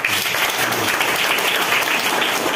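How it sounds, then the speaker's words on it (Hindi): Steady, dense clapping from a group fills the whole short stretch at a constant loud level with no pause and no voices over it. "ताली मारो"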